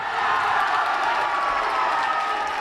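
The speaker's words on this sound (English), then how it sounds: "Shaw with a 2-handed dunk. gets the crowd a little fired up." A high-school varsity boys' basketball crowd in a gym roars and cheers steadily after a two-handed dunk, a dense sustained wash of voices and applause.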